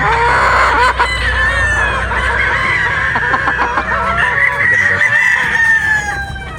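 Pullet chickens crow and squawk loudly and close by, harsh overlapping calls and clucks filling the whole stretch with little pause.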